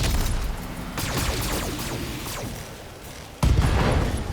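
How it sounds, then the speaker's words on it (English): An LRM ammunition explosion in the BattleTech video game bursts out as a loud crackle of rapid blasts and booms, fades slightly, then ends with a sharp heavy impact that stays loud to the end. "LRM ammo explosion."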